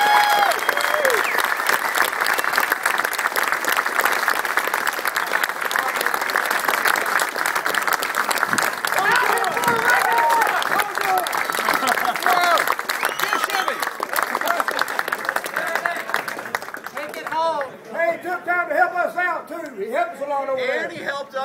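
Sustained, loud audience applause at a 24 Hours of LeMons awards ceremony, a dense continuous roar of clapping from a large crowd, with cheering voices and whoops rising toward the end.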